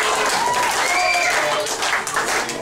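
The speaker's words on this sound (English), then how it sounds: "now we're applauding the legal tag." A wrestling crowd applauds a legal tag at a pro wrestling show, sustained clapping and cheering with whistle-like tones rising above the noise.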